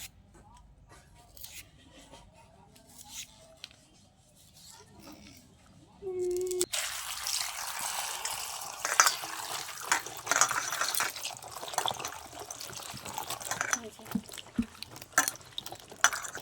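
Cut taro stolons are rinsed under running water: quiet handling noises at first, then a sudden steady splashing stream with drips and clatter that continues to the end.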